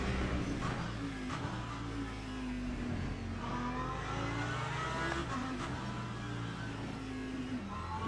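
A Toyota hypercar engine drones and revs during a race at Interlagos in the sim game Le Mans Ultimate, a steady, fairly loud mechanical whine whose pitch rises and falls slightly, with no talk.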